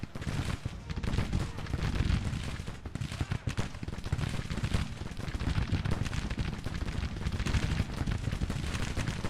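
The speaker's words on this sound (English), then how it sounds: "Let's open fire right here." Massed musket gunfire in Grand Tactician, a Civil War battle from 1863, forming a dense crackling roar of overlapping volleys that runs continuously and loudly.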